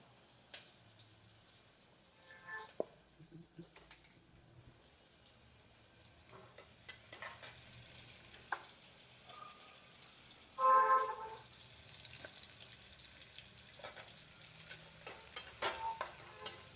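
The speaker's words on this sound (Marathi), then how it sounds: "कांद्याला गुलाबी रंग येईपर्यंत तेलात परतून घ्यायचा." Finely chopped onion and cumin seeds fry in hot oil for pav bhaji, a soft steady sizzle broken by occasional scrapes and stirring clinks, one louder burst of spattering midway, with no voices.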